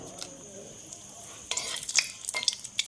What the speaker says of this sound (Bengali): কড়াতে তেল দিয়েছি দুটো শুকনো লঙ্কা দিলাম দুটো তেজপাতা দিলাম